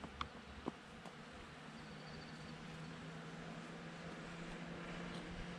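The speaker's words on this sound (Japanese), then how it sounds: "この蜂の音が怖い。" Bees hum faintly among spring cherry blossoms in Japan, a low continuous drone under a quiet outdoor ambience, with a few soft clicks early on.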